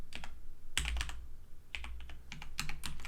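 Quick bursts of typing on a computer keyboard, close-up clattering keystrokes in short irregular clusters with brief pauses between.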